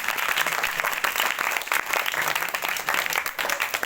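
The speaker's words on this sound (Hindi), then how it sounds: "तालियां बजाओ।" Applause for a student at a tuition and computer centre, a dense, steady patter of many hands clapping together, fairly loud and continuous with no voices over it.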